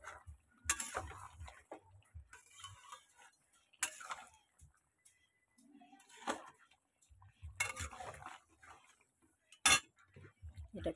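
A lid goes onto a pan of fish cooking on the stove, with scattered metallic clanks and utensil taps spread across a quiet kitchen and brief pauses between knocks.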